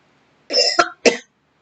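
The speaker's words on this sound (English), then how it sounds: "It's causing me to cough." A person coughs twice in quick succession, close and fairly loud, with a rough, throaty edge and quiet before and after.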